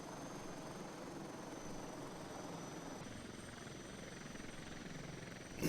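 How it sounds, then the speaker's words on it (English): A helicopter in a flight simulator game idles steadily, a continuous even engine whine and rotor drone at moderate level, unchanged throughout with no talking. "let's head back over to our helicopter, which is somewhere out the front door."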